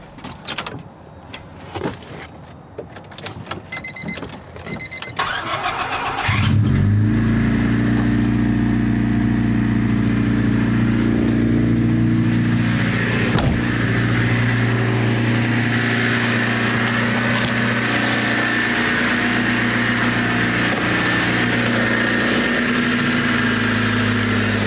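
A Honda Civic engine cranks, catches and settles into a steady, loud idle after a few seconds of starter noise, holding an even hum close by.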